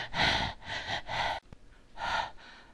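A person imitates anxious hyperventilation: several quick, forceful breaths in and out in a fast uneven rhythm, close and loud, with a short pause before the last breath.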